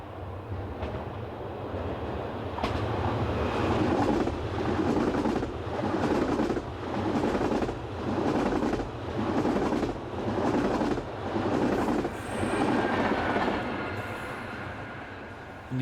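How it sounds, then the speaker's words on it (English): Belgian passenger train bound for Turnhout running just south of Liège station with locomotive 2728 pushing at the rear, a steady rolling rumble with rhythmic clicks of wheels over rail joints, moderately close and continuous. "2728 provides rear-end power on this train bound for Turnhout"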